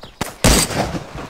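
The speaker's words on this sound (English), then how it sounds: "he's taking a shot at me" Gunshot in DayZ Standalone: a sharp loud crack followed by a booming report that echoes and decays, preceded by a fainter earlier pop.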